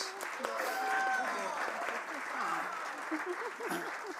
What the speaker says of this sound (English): Let's give another round of applause for these phenomenal leaders.